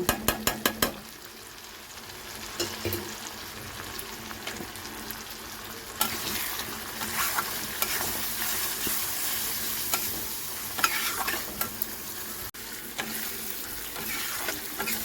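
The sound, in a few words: spice masala with turmeric, cumin, coriander powder sautéing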